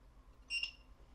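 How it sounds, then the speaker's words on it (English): A Eufy doorbell camera gives a short, high electronic sync beep once, clear and close, over a quiet background. "after we hear the sync beep"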